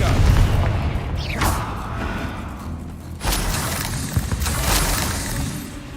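A Confringo fire-blast spell exploding in the Hogwarts Legacy video game, heard as a sharp whoosh and boom followed by a second burst amid game effects and rumbling background.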